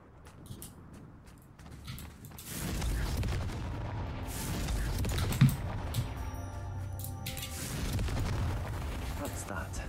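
Confringo blasting spells explode in the video game Hogwarts Legacy, deep booming blasts and rumbling under a voice, with one sharper burst in the middle.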